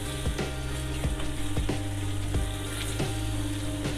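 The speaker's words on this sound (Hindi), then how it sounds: "मैं भून रही हूँ, आप देख सकते हैं।" Tomato masala for beef paya frying in a pan, a dense, steady sizzle with periodic scraping strokes of a spoon, close and moderately loud, no talk.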